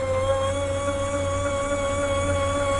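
A steady electric motor hum with a constant whine from a mobility scooter carrier's lift arm, droning evenly without change for a few seconds.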